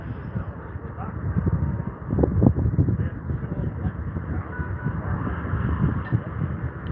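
Airbus A320 airliner at London Heathrow Airport, a steady distant jet engine roar with wind buffeting the microphone, rising slightly in the middle and holding throughout.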